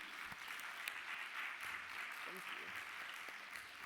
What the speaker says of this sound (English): I can allow my panelists to exit as we give them a round of applause